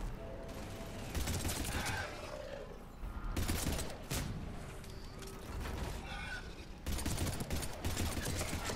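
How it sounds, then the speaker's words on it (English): Bursts of incendiary-ammo gunfire in the Mass Effect 3 demo, loud rapid volleys in several clusters separated by brief lulls, with game sound effects filling the gaps. "well that incendiary ammo seems to work very well"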